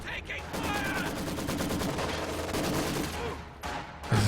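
A Maxim machine gun fires in Company of Heroes 2, a dense continuous rattle of rapid shots under game battle noise, with a commentator talking over it.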